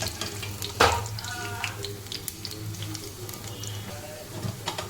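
Potato slices frying in a pan for crispy potato kaap, with a close, continuous sizzle and scraping and clattering as the slices are turned. A voice speaks softly at times.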